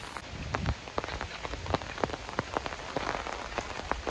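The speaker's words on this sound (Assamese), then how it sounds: "এই বৰষুণত মোৰ ছাতি একদম উৰাই লৈ যাওঁ কৰিছে বতাহে" Heavy rain pouring and pattering densely on surfaces, close and constant, with a whooshing wind-like wash and scattered louder drop impacts.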